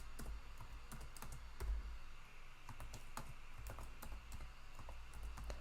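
Steady clicking of computer keyboard keys as a pacman command is typed during an Arch Linux install, with irregular quick keystrokes and a few louder taps over a low background hum, no talk.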